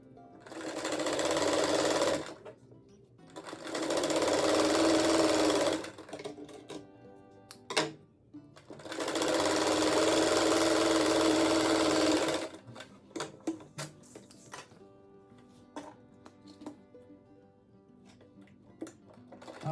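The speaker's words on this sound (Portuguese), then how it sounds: "Agora costurei umas rendinhas aqui." Sewing machine stitching lace and ric-rac trim onto an oval fabric rug, running in three long continuous bursts of a few seconds each, separated by short pauses with faint clicks and handling noises.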